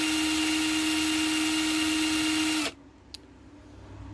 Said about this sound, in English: my drill's not fast enough to get it up into the revs